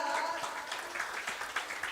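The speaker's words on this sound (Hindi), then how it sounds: "हम जोरदार तालियों के साथ परमेश्वर को धन्यवाद" A church congregation applauds, giving loud thanks in worship, heard as a brief, steady patter of many hands clapping that blends with speech.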